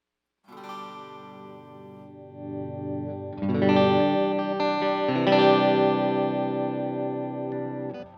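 Sustained chords from a Fender American Professional II Jazzmaster on the neck pickup, through a Milkman amp with plate reverb, ring out with a smooth, shimmering tail, building louder as more notes join in.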